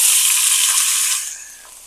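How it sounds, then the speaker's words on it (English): Loud, close sizzling of food quick frying in hot vegetable oil in a pan, a bright steady hiss that fades gradually toward the end. "And we're going to quick fry this up."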